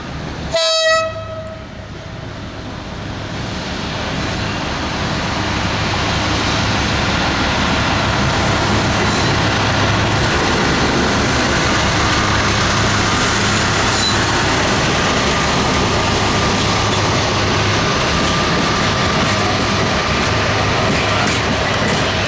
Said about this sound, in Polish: Oczywiście przy tak stromym podjeździe jedna lokomotywa nie uciągnęłaby tylu składu wagonów.